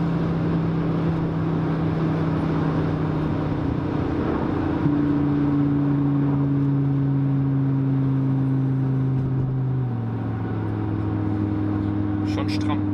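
Audi RS3 sedan tuned to 670 hp heard from inside while driving, its engine droning steadily and stepping up in pitch as it accelerates through the gears, with a shift near the end.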